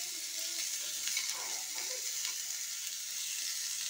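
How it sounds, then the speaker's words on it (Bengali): Carrots frying and being stirred in a pan for a sweet-and-spicy flattened-rice pulao, a steady close sizzle with faint scraping stirs throughout. "ভেজে নেব, নেড়ে নেব।"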